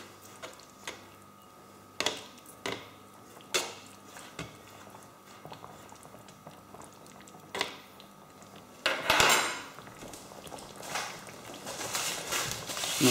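Spiced lamb or chicken with couscous being stirred in a pan, with irregular metallic scrapes and clinks of the utensil against the pan, some sharp and close, over a quiet sizzle.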